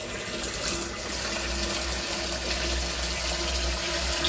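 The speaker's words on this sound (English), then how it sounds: "now we're gonna put some water in there just to help it stay in one position." Water poured into a pool sand filter tank, a steady rushing, gushing fill sound that holds evenly and close for the whole stretch, with no talking.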